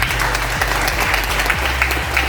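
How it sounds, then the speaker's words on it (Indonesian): Audience applause at a tourism event in Indonesia, a steady, loud round of clapping from a crowd that carries on evenly for the whole moment. "Kita berikan aplaus sekali lagi"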